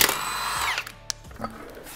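A power tool whirs loudly and steadily while pulling wheels off a Corvette C5 with a camshaft upgrade, its pitch sliding down as it winds off, followed by a sharp metallic click and a quieter mechanical whine.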